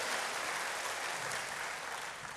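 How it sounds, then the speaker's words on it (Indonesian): A church congregation claps together in sustained, dense applause, with many hands blending into an even wash of sound that sits at a moderate distance and carries on through the whole moment. "berikan tepuk tangan bagi Tuhan"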